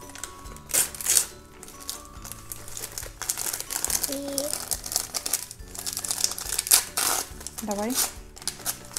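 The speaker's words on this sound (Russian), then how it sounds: "Давай теперь вот этот самый длинный пакетик открываем." A long plastic packet from a children's surprise toy is torn open, giving repeated close crinkling and rustling bursts, with someone speaking between them.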